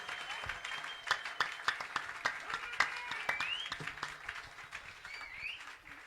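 Congregation clapping during a French-language church prayer, scattered sharp claps in an uneven rhythm over a steady murmur, with faint high chirps in the background.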